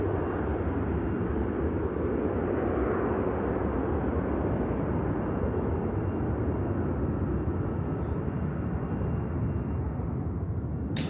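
A Lufthansa Airbus A321 airliner in classic livery rumbles steadily at Manchester Airport, a broad, continuous roar holding at a constant loud level throughout with no voices.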